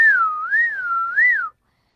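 One person whistles a single melodic line with smooth rising and falling pitch, clear, close and unaccompanied, stopping after about a second and a half and leaving silence.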